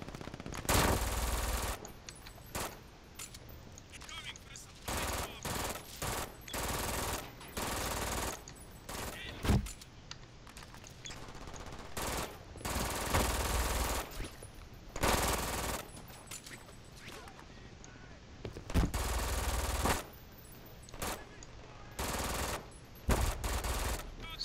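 Gunfire in the shooter video game Brink: near-constant rapid automatic bursts and single shots, loud and dense, with brief gaps between volleys.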